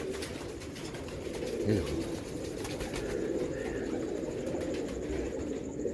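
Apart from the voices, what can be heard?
pigeons cooing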